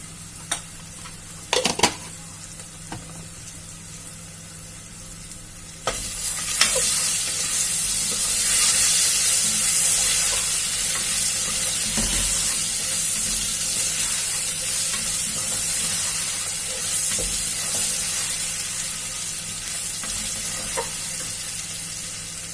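A steady, loud sizzle of ginger-garlic paste with salt and turmeric frying in a hot pan, with a few stirring clatters near the start before the hissing swells and holds.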